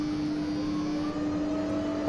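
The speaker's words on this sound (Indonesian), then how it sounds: "Wah, ada pesawat baru nih." An aircraft in the OpenTTD simulation game drones steadily, a constant engine hum with a sustained tonal whine that holds level throughout and no talk over it.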